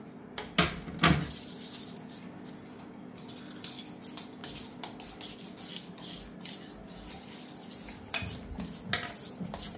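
A metal spoon scrapes and clinks around a pot of gulgule batter, with a few sharp knocks near the start and then a steady soft swishing and scraping that continues up close.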